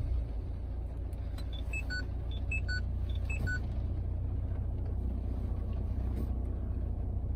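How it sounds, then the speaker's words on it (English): A Renault Grand Scenic 1.5 dCi diesel engine rumbles at a steady low idle throughout, with a short run of electronic dashboard chimes early on and no talk. "So I'll just start the car up,"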